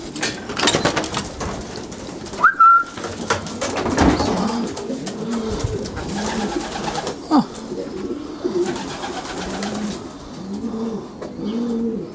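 Racing pigeons coo repeatedly in a loft, soft rhythmic low calls recurring throughout, with a brief sharp chirp and a splash of water near the start and a faint ambient rustle under the cooing.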